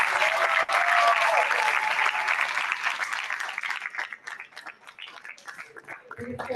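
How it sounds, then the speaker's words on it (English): Middle school students applaud visiting staff from the AG's office in a school gathering, loud sustained clapping that gradually thins and fades toward scattered claps. "Give them a round of applause."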